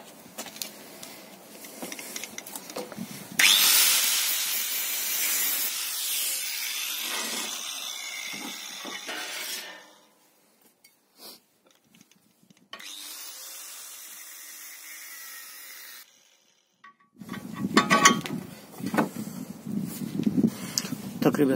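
Metal bar being cut for a homemade rebar bender with a power tool, a loud harsh grinding run of several seconds, then a pause and a second shorter burst, with a quieter stretch between and speech around it.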